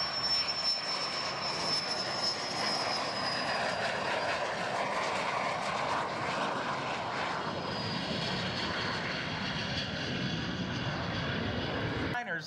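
A propeller airplane passes at an air show, a steady broad engine roar with a high whine that slowly shifts, sustained and fairly loud, with a voice talking over it.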